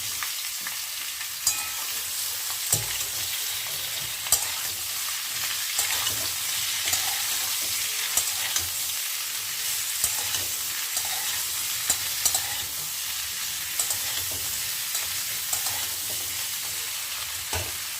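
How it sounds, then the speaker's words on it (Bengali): Potatoes fry in mustard oil with nigella seeds and dried red chillies, a continuous close sizzle broken by repeated scraping stirs and small clinks of the spatula. "এইবারে আলুগুলো ঢেলে দিচ্ছি।"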